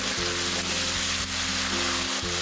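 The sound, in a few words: stirring chicken in thick sauce in a hot pan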